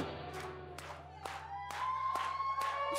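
A worship service congregation claps hands in a steady rhythm of about seven claps over a sustained organ-like musical drone, with a faint voice in the background.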